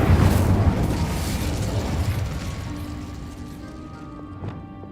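An Incendio fire spell is cast in the video game Hogwarts Legacy, a loud fiery burst with a booming whoosh that decays over several seconds into a fading rumble and faint tonal shimmer.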